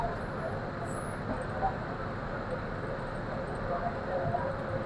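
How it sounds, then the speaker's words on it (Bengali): Korotoa Express train rolling into Bamondanga station, a steady rumbling rail roar with track noise heard continuously from on board. "তো আমাদের ট্রেন এখন প্রবেশ করছে বামনডাঙ্গা স্টেশনে"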